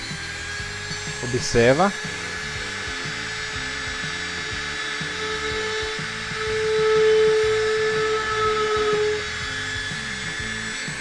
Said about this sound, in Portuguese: você vai pegar sua furadeira e começar a furar nas marcações que está aqui no circuito impresso.